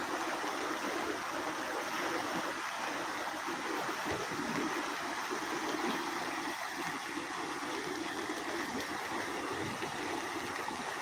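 A flooded stream near Mhaisgaon in the Sina River basin rushing continuously, a steady full roar of flowing water nearby with no voices.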